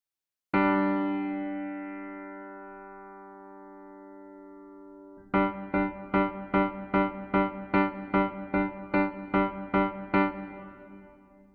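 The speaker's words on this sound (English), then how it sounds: "This is just simple hold-in notes or just repeating the same notes again and again." Minimalist drone on a synth: one long held tone that slowly fades, then the same note struck again and again in an even, steady pulse of about a dozen repeats, alone with no voice.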